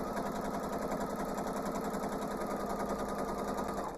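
A sewing machine stitches a quilt block with a quarter-inch presser foot, running in a steady, fast, even whir at low volume with no pauses.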